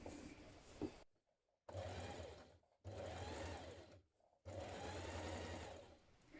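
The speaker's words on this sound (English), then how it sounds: "understitching just to keep that facing from rolling outwards" Sewing machine understitching the facing of a jacket, running in three steady bursts separated by short pauses, close and fairly quiet with no talk.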